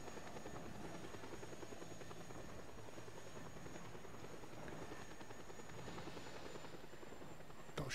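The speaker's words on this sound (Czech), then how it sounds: "Další vrtulník." A helicopter in the open-world action game Just Cause 2 flies nearby, its rotor chop and engine drone holding a loud, steady thrum throughout with no voices.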